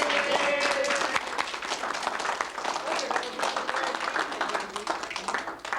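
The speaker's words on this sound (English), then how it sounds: "we should give a big round of applause to Carrie" Audience applause at a 1995 family roast, a dense burst of clapping from a roomful of people that holds steady for several seconds and then thins out, with some voices mixed in.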